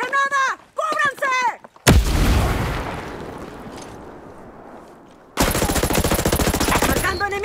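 A voice shouts briefly, then a loud, close grenade blast in the Ghost Recon Breakpoint video game booms and rumbles away over several seconds, before a dense, sustained burst of gunfire crackles in.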